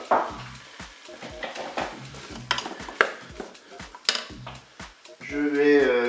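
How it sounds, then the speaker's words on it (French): Potatoes tumble into the inner pot of a Cookeo multicooker in a run of close, sharp knocks and clatters, with a short hissing burst at the end. "Je vais mettre les pommes de terre dans la cuve."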